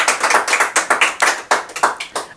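A television show audience applauds for Gonzalo, with loud, close, distinct claps in a quick uneven rhythm that run throughout without talk.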